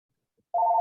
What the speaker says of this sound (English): Whoops, that's my phone, I'm sorry.